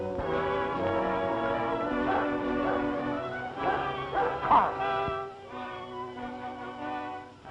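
A tracking dog on a trail barks and bays in drawn-out, wavering calls, fairly faint and mixed with other sustained tones.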